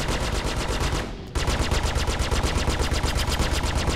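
Rapid bursts of phaser fire during space combat in the Star Citizen video game, a loud, dense, machine-gun-like rattle that cuts out briefly and then resumes at a steady pace.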